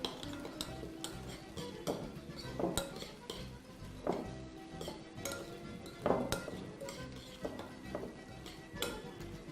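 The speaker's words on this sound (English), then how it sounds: "All I'm going to do is give that a nice quick mixture." Salsa of chopped vegetables and extra virgin olive oil gets quickly stirred in a bowl, with a quiet, close run of rapid clinks and wet scraping strokes as the spoon knocks the sides in a steady rhythm.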